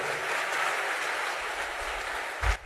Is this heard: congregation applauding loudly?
yes